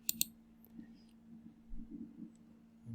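A computer mouse clicks twice in quick succession near the start, crisp and close, followed by quiet room tone with faint low hum and a few soft taps.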